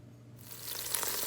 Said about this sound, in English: You can hear the obvious sizzling.